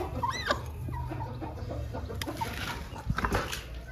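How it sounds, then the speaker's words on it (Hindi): Backyard hens cluck in short, close, repeated bursts against steady outdoor background noise, with one broody hen out of the nest and another sitting to lay. "ये क्रोक वाली मुर्गी बाहर आ गई है और वो जो दूसरी मुर्गी है वो अंडा देने के लिए अंदर जाके बैठ गई है"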